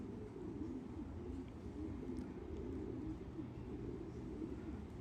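Racing pigeons arrive at the loft after a 350-mile race in strong wind, giving low, continuous cooing over a steady rumbling background, with no talk.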